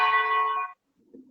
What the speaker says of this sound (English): So these bells ring about.